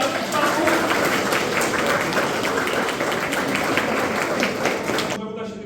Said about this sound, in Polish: Wielkie brawa dla tych